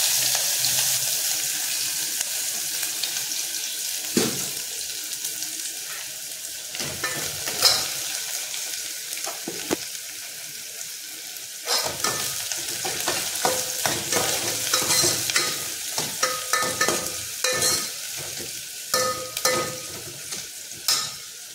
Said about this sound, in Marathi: हे सगळं आपल्याला फोडणीला टाकायचं आहे. अधिक त्यात कांदा ॲड करायचा आहे.